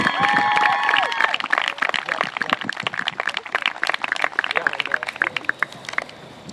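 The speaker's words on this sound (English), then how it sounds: "let's have a big round of applause for Kendrick playing at the senior" An audience at a school soccer senior salute claps and cheers for a graduating player, with dense, crisp clapping throughout and whoops and voices rising over it near the start.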